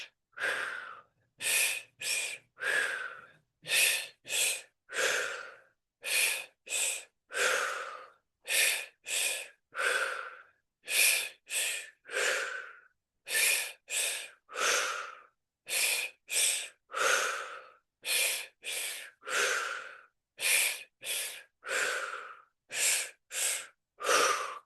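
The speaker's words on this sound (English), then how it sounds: "Long, deep, strong breaths." Deep, strong breaths in and out during a guided breathing exercise repeat steadily through the stretch, each an open-mouthed airy rush, close and loud, with short gaps between and no talk over them.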